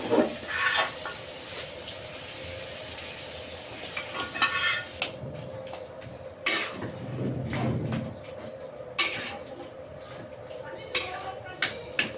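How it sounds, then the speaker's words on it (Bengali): Taro greens with onion and spices stirred in a hot pan, soft scraping and sizzling close by, with occasional clinks of the utensil against the pan and a voice talking over it. "আমরা কিন্তু এই শাকগুলো এখন মিশিয়ে নিচ্ছি"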